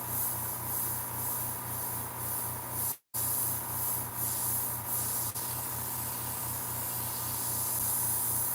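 Cheap $29 airbrush spraying paint that is drying up, a steady soft hiss with a brief cutout near three seconds, sputtering faintly and otherwise continuous.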